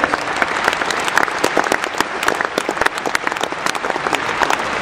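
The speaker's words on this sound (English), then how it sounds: "let's just give these cows a big round of applause" Audience applause for champion cows at a Jersey cattle show, a dense steady clatter of many hands clapping throughout, loud and close with no talk over it.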